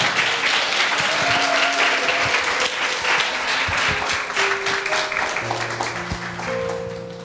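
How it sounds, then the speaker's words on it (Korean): A church congregation applauds steadily at a youth mission-sharing service, with dense, full clapping holding strong for the whole stretch and faint tonal sounds drifting underneath. "큰 박수로 응원해 주세요."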